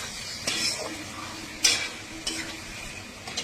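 Potatoes and a katla fish head frying in a pan as they are stirred: a soft steady sizzle, broken by a few scraping strokes of the spoon, heard close.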